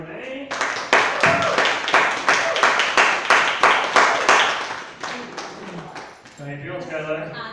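Crowd applause with rapid overlapping claps builds and holds steadily, then fades as a voice begins speaking over the end.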